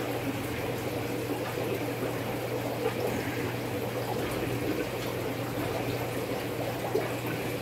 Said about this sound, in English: I'm doing a water change on this tank.